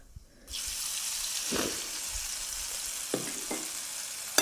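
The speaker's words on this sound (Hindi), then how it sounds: "सरसों, जिसको राई बोलते हैं। ये बहुत ही जल्दी चटकने लगती है" Mustard seeds and besan batter sizzle in a hot pan: after a brief quiet start, a steady, close hiss of frying sets in, with a few soft crackles and scraping stirs over it, and no talking.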